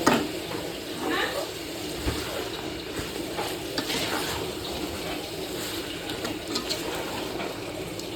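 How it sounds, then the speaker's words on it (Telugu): Mutton masala being stirred in a cooking pot, a steady scraping and sizzling wash of sound with soft bumps throughout, continuous and fairly close. "అడుగంటకుండా బాగా కలుపుకోవాలి"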